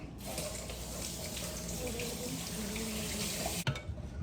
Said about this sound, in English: Might have to wash my hands